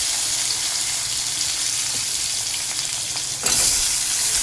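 Potatoes and chopped onion fry in hot oil with a steady close sizzle, and a louder burst of crackling flares up near the end.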